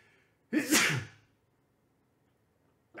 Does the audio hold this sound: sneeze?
yes